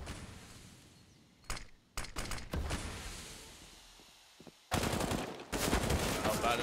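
FAMAS rifle fire from Counter-Strike's Inferno map during a professional esports match: short, sharp bursts separated by quiet gaps, then a louder, longer stretch of rapid shots at the end.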